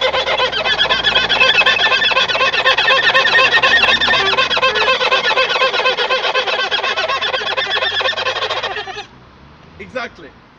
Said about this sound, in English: another noise you can make on comfort note is, quick strokes on very tight string